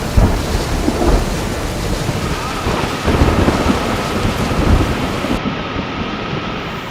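Heavy monsoon rain pours in the hill region of Uttarakhand, India, in a loud, dense, continuous hiss. Rumbling thunder rolls beneath it, and there is no talk.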